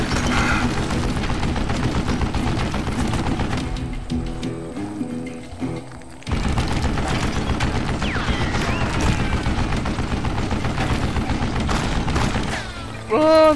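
A Gatling gun hammers out dense, sustained rapid fire in Call of Juarez: Gunslinger. It pauses briefly midway, then resumes its loud rattling barrage, with voices and game effects mixed in.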